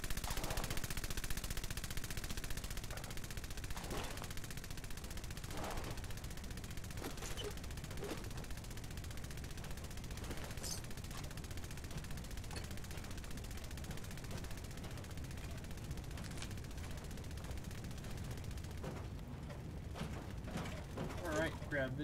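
Gunfire in Fallout 4 during a fight with a fireman robot, scattered bursts and single shots in an irregular rhythm over a mechanical hum, with a voice talking at times.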